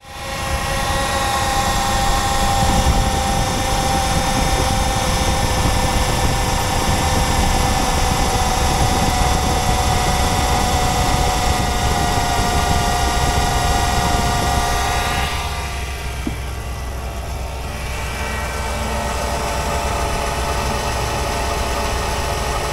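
A Jeep Grand Cherokee 5.7 L HEMI V8, just fitted with a new serpentine belt, starts and runs with a loud, steady idle drone and belt whine that eases slightly after about fifteen seconds.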